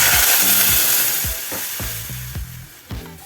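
Water poured into a hot pot for fish biryani rice bursts into a loud sizzle that gradually fades, broken by a series of rhythmic spluttering pops.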